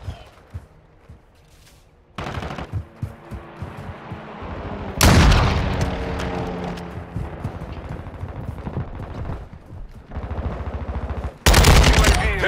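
Repeated bursts of automatic gunfire and explosive blasts in a Call of Duty: Modern Warfare 2 team deathmatch, loud and close, separated by quieter stretches of battle noise, with a heavy boom near the middle and another sharp burst at the end.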